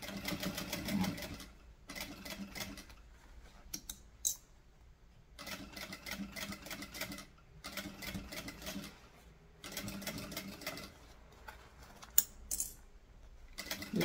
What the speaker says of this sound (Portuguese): A gente pode fazer uma costura um pouquinho mais devagar, com mais cuidado, pra ficar uma peça bonita